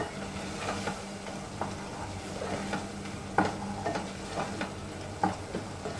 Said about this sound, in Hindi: मीडियम फ्लेम पे टमाटर को गलने तक भून लेंगे